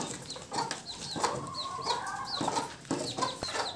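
Several native chickens clucking close by on a small poultry farm, short repeated calls scattered over a quiet farmyard background.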